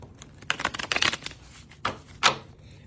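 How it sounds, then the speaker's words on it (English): Tarot cards are shuffled in quick riffling bursts, soft and close, with a couple of separate flicks afterward. "Let's get a good shuffle going here."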